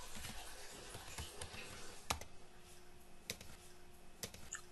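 Computer keyboard typing a terminal command on Ubuntu 21.10, faint irregular key clicks with a few sharper taps, close but quiet under a steady background hiss, no talk.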